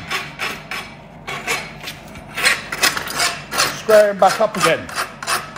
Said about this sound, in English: Get a rasp on it.